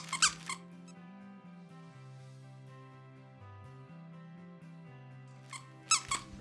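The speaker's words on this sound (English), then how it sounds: "And it does squeak." A plush swan dog toy squeaks in short, sharp bursts near the start and again near the end, close and fairly loud over a quiet room with a steady low hum.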